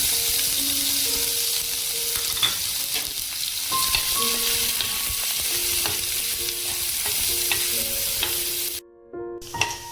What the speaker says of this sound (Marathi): जिरे, हिंग आणि ही हळद घातल्यानंतर आपण कांदा परतून घेणार आहोत ह्याच्यामध्ये।